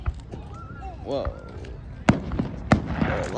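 Several firework blasts crack out in quick succession over a noisy gathering of spectators, with a child's excited, wavering voice rising just before the loudest pops.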